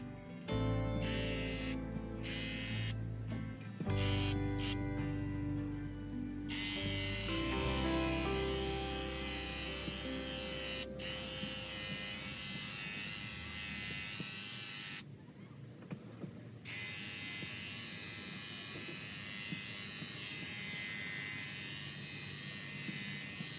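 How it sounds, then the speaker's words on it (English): A paint sprayer coats the exterior of a classic camper, giving a steady loud broadband hiss and motor whine that runs almost continuously, briefly cutting out a few times early on and once near the end. "I feel like it's a really good sprayer overall, but you do need to take care of it."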